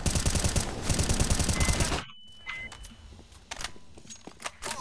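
Rapid gunfire rattles loud and close during a video game map playtest, then cuts off sharply into quieter scattered shots and clicks.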